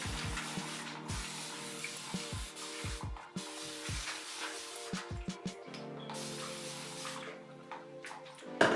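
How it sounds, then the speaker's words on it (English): A spray bottle spritzes water onto curly hair in quick bursts, several short hisses in a row, then longer sprays, close and fairly quiet. "I'm gonna spritz my hair with just a little bit of water all over"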